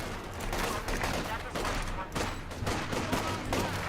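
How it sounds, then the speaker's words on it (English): Sustained volleys of infantry gunfire in a Company of Heroes 2 battle, dense overlapping bursts crackling continuously and loudly, with a voice talking over the shooting. "Infantry shooting at us."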